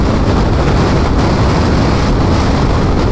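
Strong wind during a sandstorm in Algeria, a loud, constant roaring rush battering the microphone without pause.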